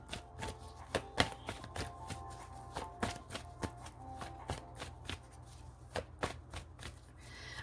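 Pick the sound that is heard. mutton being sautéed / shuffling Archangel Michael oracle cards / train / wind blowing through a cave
shuffling Archangel Michael oracle cards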